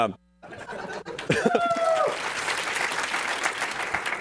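After a talk, a room of listeners breaks into warm clapping. A few tonal voice-like sounds come first, then dense applause swells and carries on steadily to the end.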